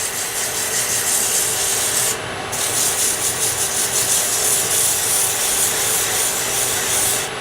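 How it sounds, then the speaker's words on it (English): Sandpaper sanding a wooden pen blank spinning on a lathe, heard as a steady, loud hissing rasp that continues throughout, with a brief dip where the paper lifts away. "One thing I'm trying to do is to avoid getting the sandpaper onto the metal bushing."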